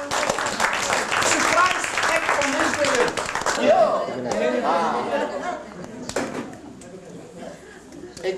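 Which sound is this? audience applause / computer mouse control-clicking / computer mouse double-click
audience applause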